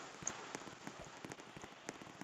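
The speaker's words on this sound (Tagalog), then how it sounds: "Sorry kung umuulan." Steady rain patters on a surface throughout, with scattered sharper drops standing out against a soft, continuous hiss at low volume.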